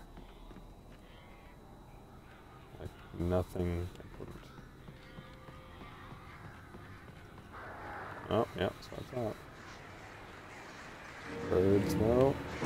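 Harsh bird calls, crows in the video game Alan Wake, come in a few short bursts around a player who keeps talking throughout.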